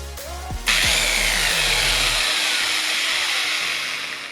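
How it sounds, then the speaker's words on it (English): A corded electric impact wrench starts with a brief low rumble, then bursts into a loud, sustained high whirring hammering run that holds steady for several seconds close by. "And here we have an impact wrench with a cord."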